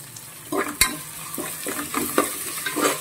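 Vegetables for a vegetable biryani are stirred and mixed in a frying pan, giving a soft hiss of frying under repeated scraping strokes and one sharp clack of the utensil against the pan.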